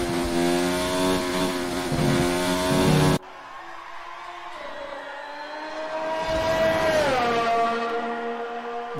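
A Formula 1 car screams past at Albert Park, a high engine whine rising, then dropping in pitch as it passes close by and fades, preceded by another loud engine note that cuts off abruptly.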